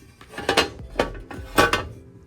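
A metal BMW E46 valve cover with two drilled breather holes being flipped over on a workbench: a few clanking, scraping metallic knocks in a short burst, close by and moderately loud.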